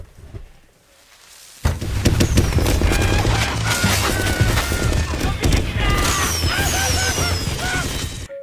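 Rapid bursts of firecrackers go off in a dense, continuous barrage of cracking explosions after a quiet start, loud and close, in a zombie game.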